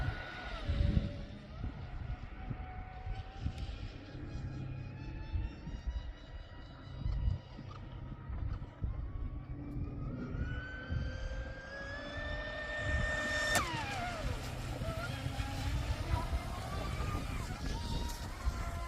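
A Proboat Impulse 32 RC boat racing across open water, its high-pitched motor whine rising and sweeping in pitch as it speeds away and returns, with wind buffeting the microphone and a person speaking at times.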